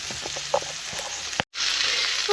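Duck breast frying in a pan as its fat renders, a steady crackling sizzle with small pops, close and fairly loud, briefly cutting out before resuming.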